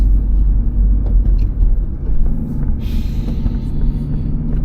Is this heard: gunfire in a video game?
no